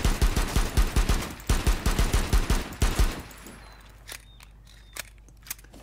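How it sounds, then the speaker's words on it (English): Rapid, rhythmic gunfire bursts in Rainbow Six Siege fire close by for about three seconds, then stop, leaving a low hum with a few faint clicks. "Anyone wanna come find out what the gunshot sounds were?"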